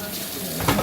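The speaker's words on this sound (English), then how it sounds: "And wash that off, some bleach water." Water runs steadily into a kitchen sink while chicken is washed off with bleach water, a continuous broadband splash with a slight surge near the end.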